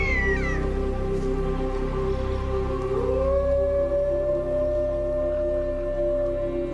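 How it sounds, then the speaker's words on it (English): Wolves in Siberia howling together, with several long sustained tones layered into a steady chorus; one voice glides upward about halfway through and then holds a high note. "Howling, the wolf call to arms, gathers the pack and warns other wolves to back off."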